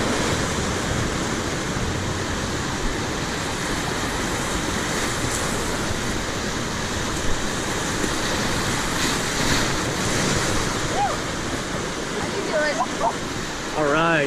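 Whitewater rapids on the Pigeon River, a continuous loud roar of rushing, churning water with wind buffeting, steady throughout while voices talk over it.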